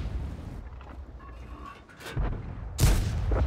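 Tank cannon shots in a video game battle with the EBR firing: a heavy boom near the middle and a louder, sharper blast toward the end, over a constant low rumble.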